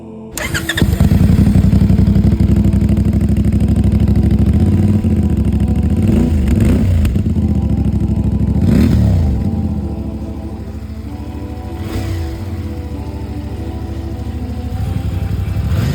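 A CFMOTO 450MT motorcycle engine idles loudly up close, then is blipped through several quick revs that rise and fall, settling back to a steady idle near the end.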